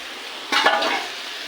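Lote fish dropped into a frying pan with spiced eggplant, a sudden hiss of sizzling oil that bursts up and then settles into a steady fry, with a faint scrape of utensils.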